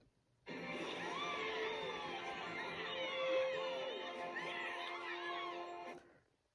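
A crowd in a city celebration from a PAW Patrol The Movie read-aloud cheers and whoops in a steady, dense roar that starts abruptly, holds for about five seconds, then cuts off.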